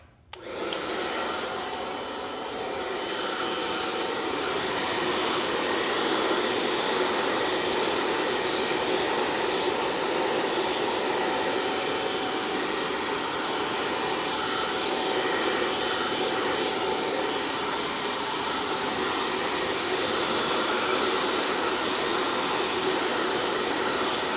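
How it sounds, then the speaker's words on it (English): A hair dryer blowing cold air runs steadily with a loud, continuous whooshing hum for the whole stretch, with no voices over it. "Get a hairdryer on it with cold air and aggravate that product into the hair."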